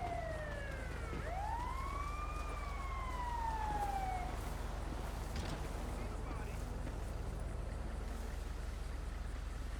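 An ambulance siren wails at a distance, sweeping up and down over a steady low hum of traffic or an engine, faint but clear for a few seconds and then fading out, on a city street patrol.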